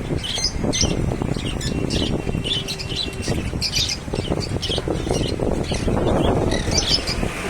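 A flock of birds squawks and chirps outdoors, with repeated sharp calls and some wing flapping over a busy, continuous background.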